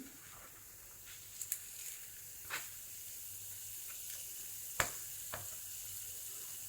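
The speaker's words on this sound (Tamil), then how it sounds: "இப்போ நான் கடலைப்பருப்பை முதல்ல போடுறேன்." Chana dal frying in ghee with mustard seeds in a home kitchen, a soft steady sizzle with a few sharp pops and clicks scattered through it, faint and close, with no voices.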